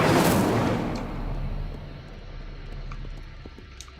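Incendio fire spell cast in the Hogwarts Legacy video game: a loud burst of flame at the start, fading into a rumbling roar with faint crackles, no talking.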